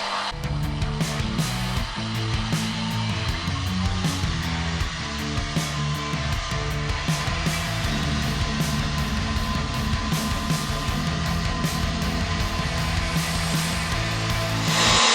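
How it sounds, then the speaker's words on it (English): An electric mixer runs on high, whipping egg whites with cream of tartar toward stiff peaks for keto cloud bread, a loud continuous whirring drone with a steady pitch that holds throughout without any talk. "So all we have to do now is just beat these up on high till we get to the stiff peak stage."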